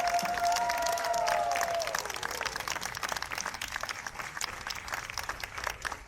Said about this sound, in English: Let's just give another big round of applause to all of the competitors